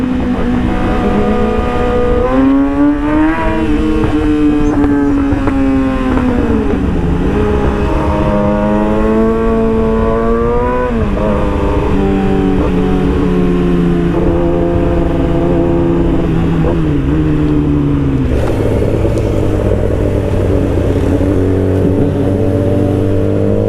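Yamaha R6 and 1000RR sport motorcycles accelerate hard, engines climbing through the revs in loud rising whines with quick gear shifts, a steady close roar throughout and no talking.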